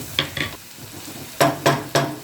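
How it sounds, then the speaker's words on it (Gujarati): Spatula strokes stir finely chopped tomato into a sizzling oil tempering for Gujarati vagharela pav, two quick scrapes followed by three louder rhythmic stirs over a soft, steady frying hiss. "એની અંદર 1 નંગ ટમેટું છે ઝીણું ચોપિંગ કરેલું એને પણ એડ કરી અને એને પણ મિક્સ કરી લેશું"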